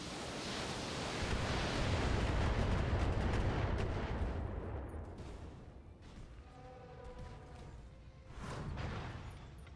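Mech weapons fire in Battletech as a broad, booming roar that swells and rumbles for several seconds, then breaks into sharper blasts with a brief tonal whine near the end, loud and close with no talking.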